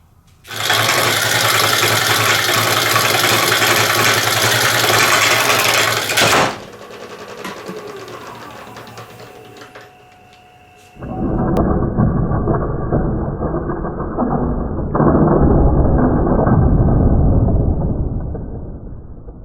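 A segmented cypress bowl flies off a spinning wood lathe and bounces off a shop door: loud sustained broadband roar for six seconds, a quieter rattling stretch, then another heavy low rumbling burst to the end, with no talking.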